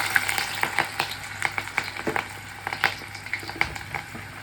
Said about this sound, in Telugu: దాంట్లోకి ఉల్లిపాయలు, పచ్చిమిరపకాయలు వేస్తున్నాను